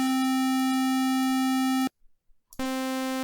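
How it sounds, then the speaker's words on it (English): A bright, buzzy sawtooth-wave synthesizer tone holds a steady pitch, cuts out for under a second, then returns unchanged. "now let's go back to the saw wave"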